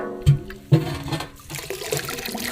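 Fresh sugarcane juice pours into a vessel in a village, two short splashy bursts followed by a steady, close trickle of liquid.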